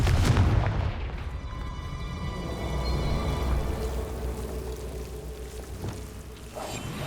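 A Confringo blasting spell explodes in Hogwarts Legacy, opening with a loud, close boom that fades into a long, rumbling, crackling tail of debris with no talking.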